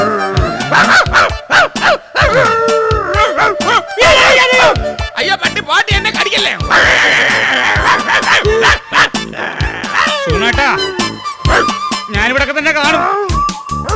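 A dog in a comedy television serial barks in excited yips amid a dense mix of voices shouting and clamoring over one another.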